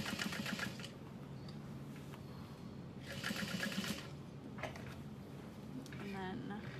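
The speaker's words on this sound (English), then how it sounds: "sew along the other side" A sewing machine stitches a seam on a Bonnie bucket bag in short bursts of steady whirring, with quiet pauses between runs and a voice talking alongside.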